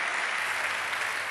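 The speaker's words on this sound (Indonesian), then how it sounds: "Tepuk tangan bagi Allah kita." A church congregation at a cell-group service gives steady, dense applause, sustained and even, with no gaps.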